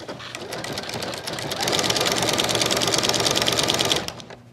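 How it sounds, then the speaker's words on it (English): Sewing machine running a decorative blanket stitch on a pillow play mat, a fast steady mechanical whir and needle clatter that picks up speed midway and then stops. "I'm using a little blanket stitch."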